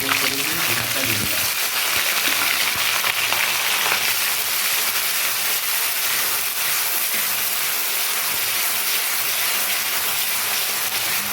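Onion drops into hot caramelized sugar and whole spices in a pan for a Bangladeshi chuijhal chicken dish. It sizzles loudly and steadily, a bright crackling hiss that carries through without a break.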